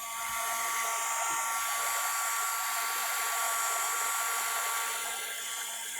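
A hair dryer blows steadily on a paper-flower craft project to speed drying, a close, constant whirring hiss with a faint motor whine and no voices.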